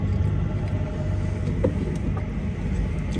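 A long semi truck rolls past nearby, a steady low engine and tire rumble that holds loud for the whole stretch.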